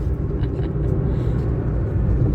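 A car driving through a village gives a steady, loud low engine rumble that holds evenly throughout, with no voices over it.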